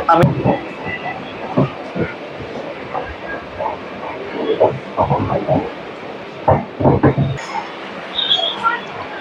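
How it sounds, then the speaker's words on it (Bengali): A passenger train runs and crosses from one track onto another route on the way to Siliguri, giving rhythmic wheel clatter and irregular knocking bursts over a continuous rolling rumble heard from inside a carriage. "বন্ধুরা একটা রোড থেকে আর একটা রুট কিভাবে ট্রেন মানে ক্রসিং করে আপনারা দেখেন।"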